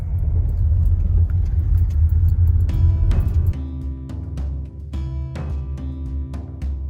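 A car drives along the Needles Highway in Custer State Park, South Dakota, with a steady close engine and road rumble that steps down midway, plus faint rattles and clicks inside the cabin.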